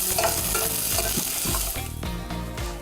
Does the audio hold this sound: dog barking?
no